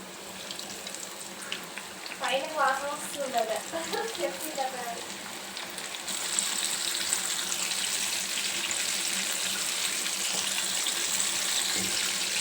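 Chicken pieces for homemade KFC-style fried chicken go into hot oil. A steady bubbling sizzle builds and then holds loud and continuous, with someone speaking over the early part.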